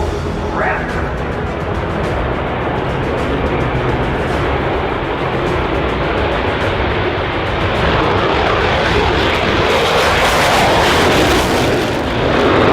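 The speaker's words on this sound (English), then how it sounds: "Ladies and gentlemen, I present the United States Air Force F-22 Raptor." A United States Air Force F-22 Raptor jet passes over an Edwards Air Force Base air show, its engine roar a loud, broad, sustained rush that swells toward the end, with no talk over it.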